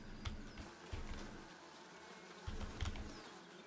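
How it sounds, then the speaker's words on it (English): Buzzing insects in the video game The Talos Principle 2, a faint, low drone with soft swelling passes, quiet and ambient, with a few distant bird-like coos in the background. "Bees?"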